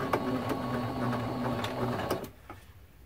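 A sewing machine runs steadily, piecing two glued t-shirt quilt blocks together with a quarter-inch seam, a continuous mechanical whir with rhythmic ticks that stops near the end, leaving a few faint clicks.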